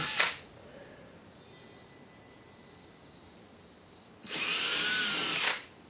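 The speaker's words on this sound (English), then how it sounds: "I still have to make some pilot holes because I'm going to put some inserts in there" A power drill drilling pilot holes into a wall for a mini split air conditioner install whirs in two bursts, a short one at the start and a longer, louder run near the end, with quiet between.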